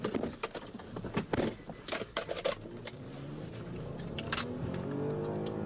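A car speeds off during a police chase, its engine noise rising and then holding steady against the street. Sharp clicks and knocks are scattered through the first half, and no one speaks.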